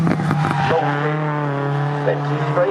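MG Metro race cars run on the Snetterton circuit, a sustained, even engine drone heard from a distance under a commentator's voice.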